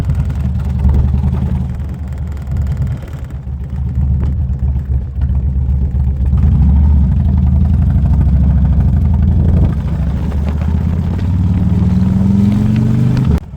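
A 2007 Harley-Davidson Electra Glide Standard (FLHT) running close by, its loud, deep, rumbling V-twin idle steady throughout with a slight rise in revs near the end.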